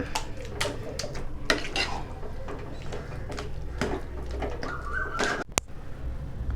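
Thick Bombay halwa being stirred with ghee in a heavy-bottomed pan, a spoon scraping and knocking against the metal in irregular clinks, close and fairly loud, with a brief squeaky tone near the end.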